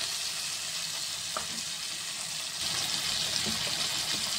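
Tomato pieces fry in hot oil for a Telugu-style murumuralu dish, giving a loud, steady, close sizzle that runs continuously without any speech.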